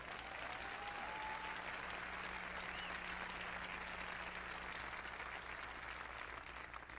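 A large audience claps in sustained, dense applause at a motivational talk, steady and fairly loud throughout with no voices on top.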